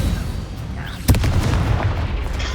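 A fire spell goes off in Hogwarts Legacy as a sharp, booming burst, followed by a crackling, rumbling tail of flame and effects.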